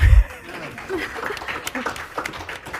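A comics convention audience at the MICE 2024 panel breaks into scattered clapping for the panelists, a loose patter of hands with a few light chuckles mixed in.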